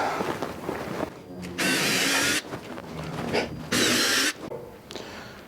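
A power drill boring holes up to 7/16 inch in a saw fence, with two loud sustained bursts of drilling separated by quieter handling and mechanical clatter.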